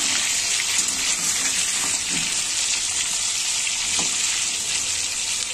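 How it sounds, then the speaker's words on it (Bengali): Crabs fry in hot mustard oil with a dense, even, hissing sizzle that runs without a break, with faint spatters and a couple of light stirring knocks. "সরষের তেল গরম হতেই কিন্তু আমি কাঁকড়াগুলোকে ভাজার জন্য দিয়ে দিয়েছি"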